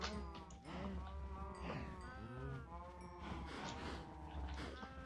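Cows, including baby cows, on a farm in the video game Minecraft give several drawn-out, wavering calls in quick succession, with a person talking faintly in the background.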